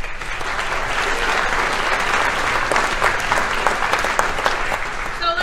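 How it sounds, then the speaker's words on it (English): Dense, even applause from the audience at the RAIN Eugene Annual Showcase, an entrepreneurship event, holding steady for several seconds with scattered sharper claps near the end. "Another round of applause for that."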